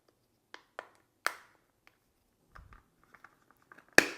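Sharp clicks and plastic snaps sound as a tool pries open a SPORTLINK waterproof iPhone 17 case, scattered close taps with a loud crack at the end and quiet gaps between.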